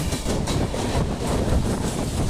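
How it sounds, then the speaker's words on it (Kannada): A train passes on the adjacent track near a station on the Maharashtra–Gujarat border, heard from aboard another train: a loud, continuous roar of wheels and wagons with a faint clickety-clack rhythm. "ಟ್ರೈನ್ ಕ್ರಾಸ್ ಆಗ್ತಾಯಿದೆ."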